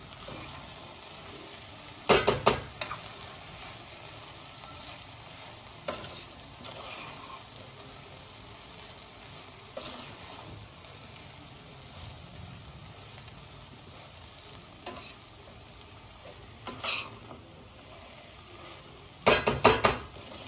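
Tava pulao rice with spices is stirred in a hot pan: a soft, steady sizzle runs underneath while several loud scraping, clattering bursts of the spatula strike the metal at irregular intervals.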